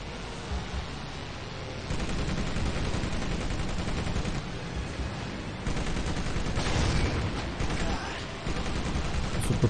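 Rapid, muffled bursts of gunfire in the video game Medal of Honor: Pacific Assault run almost continuously at a low level, with a voice talking under the shooting.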